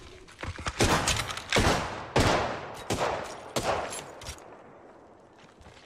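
Gunfire in the battle royale game Apex Legends, with sharp, loud shots in quick irregular bursts and volleys echoing close by, thinning out toward the end.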